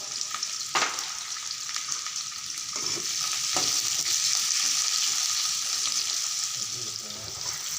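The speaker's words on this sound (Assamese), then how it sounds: "ৰঙালাওখিনি ফ্ৰাই কৰা হৈ গ'ল।" Pumpkin pieces sizzle steadily in hot oil in a frying pan, a continuous hiss broken by a few scraping stirs early on.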